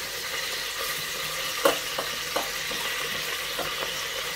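Lamb sizzles and fries in a pan as artichokes go in, a steady close crackle broken by a few sharp clatters and stirring knocks, with no voices.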